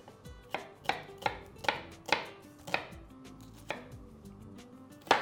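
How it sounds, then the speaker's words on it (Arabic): A knife finely chops an onion on a board, about a dozen crisp, close chops at an uneven but brisk pace, with no voices. "بصلة معايا هفرمها فرمة ناعمة"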